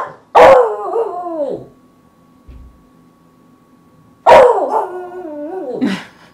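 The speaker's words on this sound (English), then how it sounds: "Your little howl is so cute." A dog lets out two loud, close bursts of barking that rise into short wavering howls, each lasting over a second, separated by a few seconds of quiet with a faint thump in between.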